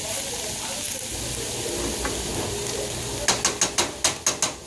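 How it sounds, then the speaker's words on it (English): Food sizzles steadily in a pan on a home stove, a constant close hiss that runs throughout, with a short series of sharp clicks near the end. "So I'm gonna let this saute."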